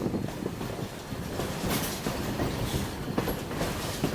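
A moving passenger train rolls along rails, heard from inside the carriage as a steady rumble with faint rhythmic clickety-clack beats over the joints and no voices.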